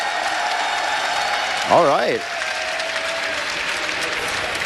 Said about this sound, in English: let me hear you cheer for Fnatic in the audience